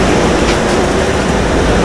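Steady, loud, broadband rumble fills the inside of a moving train car, an even wash of rolling noise with no distinct events and no talking.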